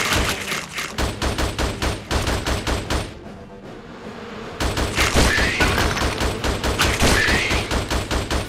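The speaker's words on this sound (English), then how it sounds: "Rapid shot." Rapid, evenly spaced gunshots from the Xbox 360 game Attack of the Movies 3D pound in a steady fast rhythm, pause briefly, then resume just as loud and close.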